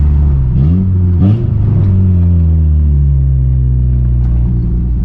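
A turbo Honda Civic engine revs loudly and close, rising in quick blips and then sweeping down into a deep, rumbling drone as the car drives.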